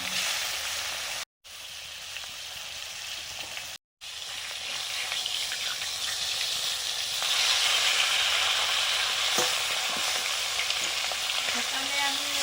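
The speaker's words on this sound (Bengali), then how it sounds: "মাছগুলো ভেজে নিচ্ছি" Fish fries in mustard oil with a loud, continuous sizzling hiss, cut by two brief silent gaps, with a few faint stirring taps toward the end.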